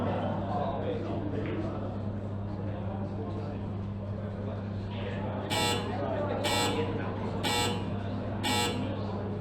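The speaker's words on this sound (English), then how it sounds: "Right to the buzzer there" Snooker shot clock buzzer at a Masters 2024 match, four short bright electronic beeps in a steady rhythm near the end, over a constant low arena hum and murmur.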